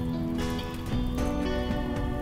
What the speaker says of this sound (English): Sadly, it's raining right now.